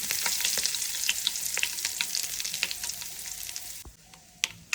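Curry leaves crackle and sizzle in hot oil for a sambar, with a dense hiss broken by sharp spattering pops, heard close and alone.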